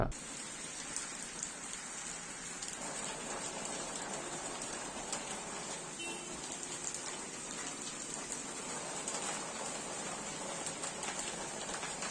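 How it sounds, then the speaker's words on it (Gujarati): Steady rain hisses evenly throughout over Bhavnagar city, a constant wash of falling drops with faint distant sounds beneath it. "આજે દિવસ દરમિયાન હળવા ભારે ઝાપટા પડ્યા હતા"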